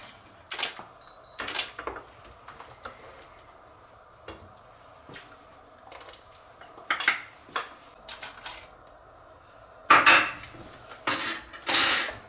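Cracked wheat and lentils tipped into a soup pot, a scattered run of dry taps, clinks and rattles of grains and utensil against the pot, quiet and intermittent with a busier burst near the end.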